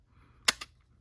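Sony Walkman WM-FX12 cassette player's play button pressed down, giving two sharp mechanical clicks in quick succession, close and fairly loud against a quiet background.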